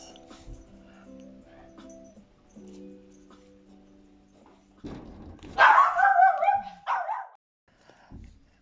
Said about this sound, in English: Someone came to the door, the dog barked.